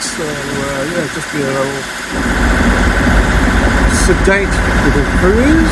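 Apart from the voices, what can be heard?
boat engine motoring across the channel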